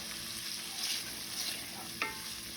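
Bacon crisping in a pan for Southern fried cabbage, a close, continuous sizzle and crackle with soft stirring scrapes and one sharp clink near the end.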